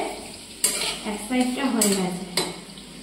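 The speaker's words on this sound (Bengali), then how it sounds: "পটলটা ভাজা চাপিয়ে দিয়ে চলে গিয়েছিলাম" Pointed gourd frying in oil in a pan, a steady close sizzle broken by a few sharp clinks and scrapes of a spatula against the metal as the pieces are stirred and turned.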